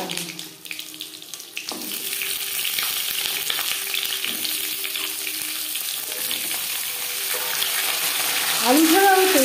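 Potatoes fry in mustard oil with cumin and green chilies, a continuous close sizzle running the whole time, with some clattering at the start and a louder surge near the end.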